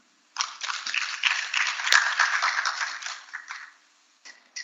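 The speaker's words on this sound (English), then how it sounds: "Let's welcome him with a clap." Audience at the Kenya School of Law annual conference claps to welcome a speaker, a dense burst of applause that swells quickly, holds for about three seconds, then thins out to a few scattered claps.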